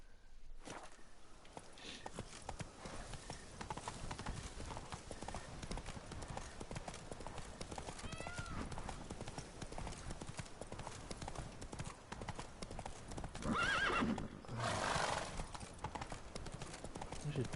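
Geralt's horse Roach in The Witcher 3: Blood and Wine clip-clops along in a quiet, steady walking rhythm, with voices around it.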